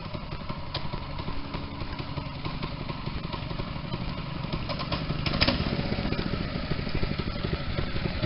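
A small go-kart engine runs steadily at a moderate, even level, a continuous buzzing drone with a slight rise in throttle partway through.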